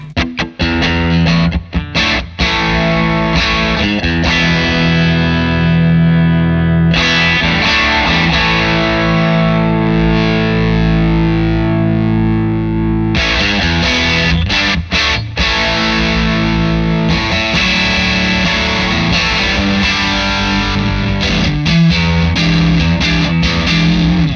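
Overdriven electric guitar played through an overdrive pedal, a thick distorted tone running continuously with chords and riffs, loud and close, with a brief pause near seven seconds and no talking.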